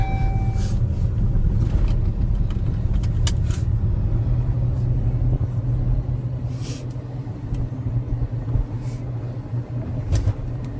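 A 2015 Dodge Journey's engine rumbles steadily from inside the cabin as it drives uphill, a low constant drone with occasional small knocks and rattles.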